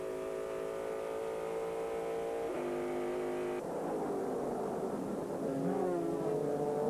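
Onboard engine sound from car number 50, an American Le Mans Series race car in 2001, a loud sustained high-pitched roar whose pitch holds steady, steps down through gear changes, then climbs again with a rising rev, close and continuous.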